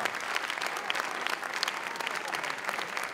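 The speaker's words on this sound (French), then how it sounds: "Vous pouvez les applaudir très fort." An audience at the ONZE+ jazz festival applauds the HEMU Jazz Orchestra with dense, steady clapping that fills the whole moment at moderate level, with no pause and no voices.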